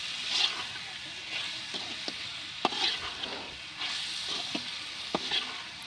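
Steady sizzling of pork frying in a pan with turmeric, with occasional scraping and stirring clicks close by; no voices.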